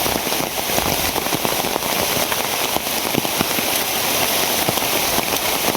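Heavy rain pours down steadily and loudly, a dense continuous hiss of drops striking surfaces with scattered sharper splatters, filling the whole stretch without any voices.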